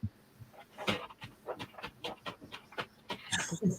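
An excited dog pants nearby in quick, steady breaths that stay fairly quiet, with a little whimpering near the end.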